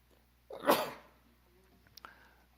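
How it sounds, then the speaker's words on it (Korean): A single sharp sneeze bursts out nearby in an otherwise quiet room, followed by a faint sniff or small vocal sound. "간혹 이렇게 기침이나 또 재채기도 나옵니다만"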